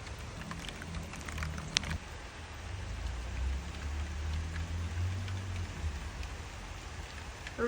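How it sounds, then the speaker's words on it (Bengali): Rain falls while the sun shines under a clear sky, a soft, even patter heard from a short distance, faint and continuous, with a low rumble in the background. "রোদের মধ্যে বৃষ্টি"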